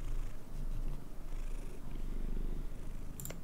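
House cat purring right up close, a steady low rumbling drone that runs throughout, loud and continuous, with a brief faint squeak near the end.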